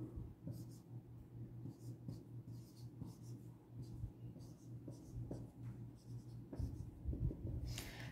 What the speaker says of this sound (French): je suis en train de l'écrire